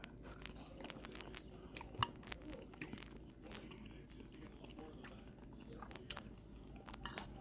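Someone chews a spoonful of cabbage and minced beef close up, with soft, irregular wet crunches and smacks repeating steadily at low volume.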